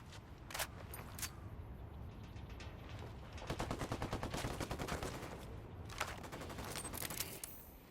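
Automatic gunfire in Ghost Recon Wildlands, fast rattling bursts with sharp individual shots, a long sustained volley in the middle, fairly distant and steady under faint background ambience.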